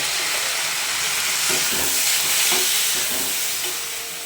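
Ginger-cumin paste goes into cabbage frying in a pan, with a continuous bright sizzle and a few soft scraping stirs partway through, loud and close, easing slightly at the end.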